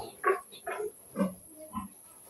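Newly weaned piglets on a backyard farm squeal and grunt in four short, fairly faint bursts while being given a hog cholera vaccine.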